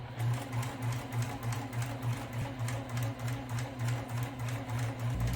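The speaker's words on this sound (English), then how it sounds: "I am going to lift the foot presser and I'm going to tilt the fabric and then start to stitch down across" A sewing machine stitches down across fabric for a DIY lunch bag, its steady rapid needle rhythm running close and continuous throughout with a low motor hum.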